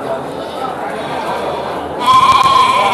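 Garut sheep, a breeding ewe with her lamb at a livestock market, give a loud bleat that starts partway through, sitting over a constant background murmur.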